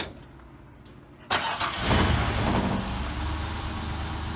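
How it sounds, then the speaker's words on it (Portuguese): A fuel-injected pickup truck engine cranks briefly and catches, then settles into a smooth, steady idle heard close by. "Bate uma partida pra gente ver aí, Wilson."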